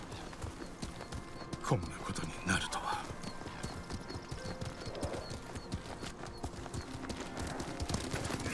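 Horse hooves clip-clop at a steady trot in Ghost of Tsushima, with a whinny partway through, while characters speak Japanese dialogue over the riding.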